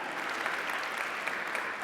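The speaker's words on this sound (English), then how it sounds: "Yes, you can clap for that." A short stretch of steady conference audience clapping at the Misk Global Forum 2022, dense and even, heard from a little distance.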